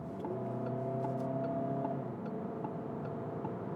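A Peugeot 308 GT with a four-cylinder diesel, in sport mode, pulls hard to overtake a pickup truck; a steady engine drone with rising harmonics holds throughout, close and continuous, with no talking.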